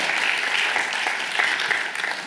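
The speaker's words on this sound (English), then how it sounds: "People usually applaud at this point, by the way." An audience at a lecture applauds, dense, even clapping filling the whole short stretch at a steady, fairly loud level with no voices over it.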